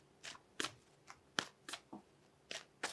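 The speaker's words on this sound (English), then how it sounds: "I'm going to pull one more card here." Tarot cards being shuffled and pulled from the deck: close, crisp bursts of riffling and snapping card sounds, around eight separate swishes spaced irregularly, with no talking.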